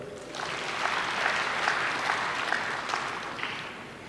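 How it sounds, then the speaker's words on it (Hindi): Audience applause at a spiritual discourse gathering in Gujarat, a steady wash of clapping from a crowd holding at an even level for several seconds, with no talking over it. "इसलिए ताली बजा दो।"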